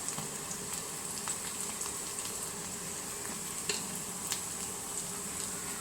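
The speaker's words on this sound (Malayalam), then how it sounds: "മുളക് പൊടി മൊരിയട്ടെ." Chili powder roasting in hot oil gives a soft, even frying hiss with scattered small crackles and occasional pops, quiet and continuous without any talking.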